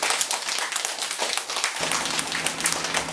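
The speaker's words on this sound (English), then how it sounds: "Give yourselves a clap real quick." Graduates of a street life-skills program give themselves a round of applause, a dense burst of many hands clapping at close range that continues steadily throughout.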